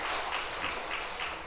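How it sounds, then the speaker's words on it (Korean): Church congregation applauding two introduced candidates during a Sunday service, a steady broadband wash of many hands clapping at moderate volume, filling the short moment without speech. "박수 한번 하겠습니다"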